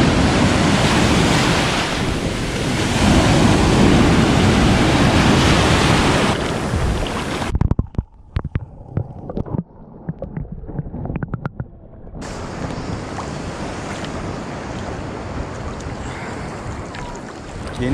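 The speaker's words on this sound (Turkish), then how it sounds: "Bugün biraz dalgalı." Surf at a rocky cove on a choppy day rolls and crashes loudly and steadily, breaking off for a few seconds of scattered close knocks and rustles before the broad wash of waves and wind returns.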